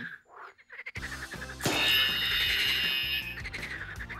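A recorded frog croak is played as a sound-guessing game on a French TV show, a rough croaking call that follows a moment of quiet chatter and sits over a busy, layered background, rising sharply partway through.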